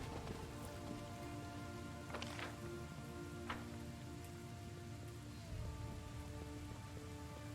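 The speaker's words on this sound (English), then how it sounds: "Oh, lovely blood rain." Blood rain in the fantasy RPG Pathfinder: Wrath of the Righteous falls as a steady, soft patter of rain on surfaces, a constant wash with a few brighter splashes and a low ambient tone beneath.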